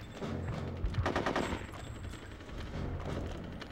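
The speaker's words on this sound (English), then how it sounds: "Machine guns." Rapid machine gun bursts from the video game Conker's Bad Fur Day, loud and continuous with a few heavier thuds mixed in, sustained across the moment with no talking.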